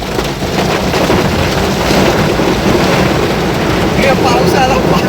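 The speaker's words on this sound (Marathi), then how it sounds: "पाऊस आला." Heavy rain pouring at the top of Malshej Ghat, a loud, dense roar of water that is steady and close throughout, with voices faintly audible beneath it.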